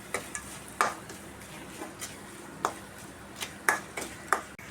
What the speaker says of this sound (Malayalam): രണ്ട് 3 സ്പൂൺ ശർക്കര ബെല്ലത്തിൻ്റെ പൊടി അതിടാം. എല്ലാം കൂടി മിക്സ് ആക്കാം.